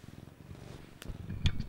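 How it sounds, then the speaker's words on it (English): Cat purring softly and close, a faint low rhythmic rumble that holds steady and grows slightly toward the end, with a few brief clicks and no talking. "He's purring now."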